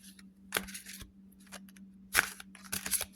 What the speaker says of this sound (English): let's see how these cards are to shuffle.